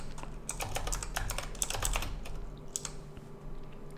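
Typing on a computer keyboard: quick bursts of crisp key clicks in uneven runs, close and fairly quiet, then a short pause and a few scattered taps near the end, with no speech.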